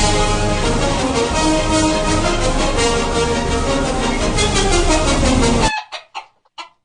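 Hens cluck loudly and continuously in a busy, overlapping flock, then the noise cuts off abruptly, leaving a few scattered clucks at the end.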